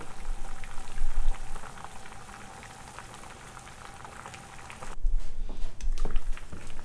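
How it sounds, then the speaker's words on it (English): Clams boil hard in Thai curry broth over medium-high heat, a steady dense bubbling and churning that runs throughout, swelling louder at the start and again near the end. "Keep it at a boil."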